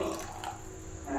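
Water poured into a cooking pot while making upsaru, a Kannada greens soup, giving a short, steady close splashing flow with no talk.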